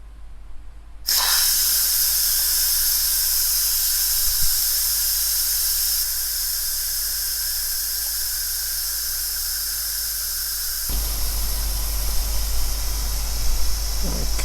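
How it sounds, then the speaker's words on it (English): An Instant Pot pressure cooker, used for black soybean spaghetti with shrimp, vents steam in a loud, steady hiss that starts abruptly after a second of quiet and holds near and continuous throughout. "so now I'm going to release the steam."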